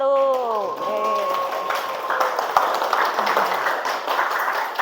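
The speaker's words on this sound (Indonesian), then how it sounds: "Kasih tepuk tangan untuk kelompok 1." Classroom students clapping for a group after its presentation, a lively patter of many hands beginning just after a short spoken phrase and continuing steadily to the end.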